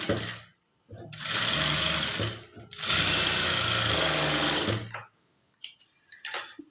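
A sewing machine stitches a blouse band in two loud, close bursts of rapid whirring, with a short pause between them, followed by a few faint handling sounds.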